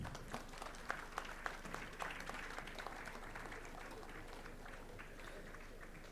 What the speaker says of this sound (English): A round of claps for our winners.